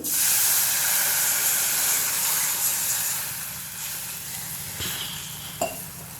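A glass of water poured into a hot pan of salted mixture while making patwadi curry: a loud burst of sizzling steam and hiss that fades gradually, with a couple of faint clinks near the end.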